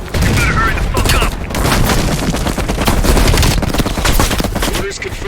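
Sustained heavy machine gun fire in Call of Duty: Black Ops Cold War, loud and continuous rapid bursts over about five seconds, with battle noise layered beneath.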